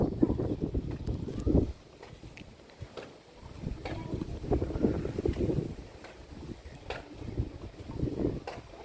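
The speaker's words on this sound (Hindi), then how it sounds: "बहुत ज़्यादा हवा चल रही है" Strong wind buffets an outdoor microphone, rumbling in uneven low gusts that swell and drop across the whole stretch, with faint background sounds but no clear talk.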